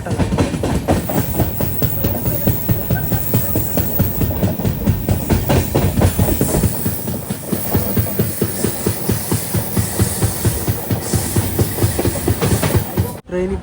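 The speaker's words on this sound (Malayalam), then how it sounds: "ട്രെയിൻ ഇപ്പോൾ സൂറത്കൽ റെയിൽവേ സ്റ്റേഷനിൽ നിന്ന് എടുത്തേ" A Rocket Express train leaving Surathkal railway station on the journey to Karwar runs with loud, close rumbling and a steady, repeating clickety-clack of wheels over rail joints, with a voice faintly mixed in before it cuts off sharply near the end.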